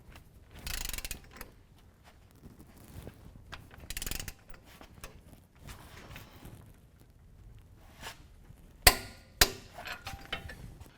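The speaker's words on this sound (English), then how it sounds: "this bottom bolt here, we're going to tighten to 90 foot-pounds." A bottom bolt on a Havoc Offroad 5-inch lift kit for a 2017 Silverado 2500 HD is tightened, giving faint mechanical clicks and ratcheting with a few louder metallic clanks near the end.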